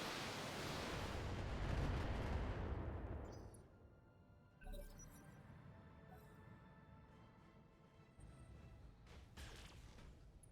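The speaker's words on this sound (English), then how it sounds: "throw some missiles out at the goblin" A salvo of missiles fired at an enemy Goblin mech in the video game Battletech, a loud rushing roar of launches that fades away, followed by scattered distant impacts and rumbles.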